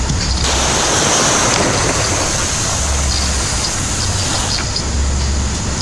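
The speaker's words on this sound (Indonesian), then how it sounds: "Terus, suara ombak pun" Ocean waves sound as a continuous, loud broadband wash of surf that surges gently up and down, heard alone without speech.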